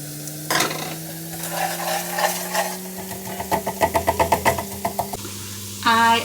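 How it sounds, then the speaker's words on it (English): Maggi stock cubes frying in oil while a spoon stirs and smashes them, giving close, loud scraping and a fast burst of rhythmic knocks against the pan over a low steady hum and sizzle. "as they get the heat and oil absorbed, then they get soft and you can just smash them in with the spoon"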